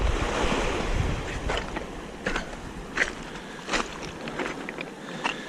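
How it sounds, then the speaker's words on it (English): Ocean waves break steadily on the shore of Lady Musgrave Island, a loud continuous surf wash with gusty wind buffeting the microphone and brief splashes rising above it. "So this goes to show you the strength of the waves"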